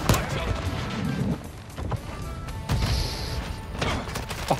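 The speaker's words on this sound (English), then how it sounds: "He got grenaded." Grenade blast and gunfire in Modern Warfare II online multiplayer, sharp repeated bangs and bursts in quick succession mixed with close voices talking over the action.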